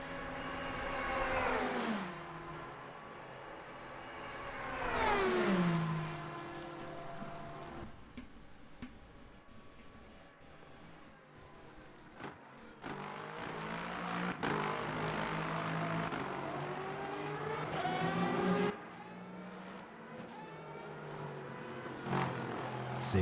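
GT3 race cars at Monza in a racing video game, engines rising and falling in pitch as cars pass and accelerate, several overlapping revving sweeps with a steady engine drone between them.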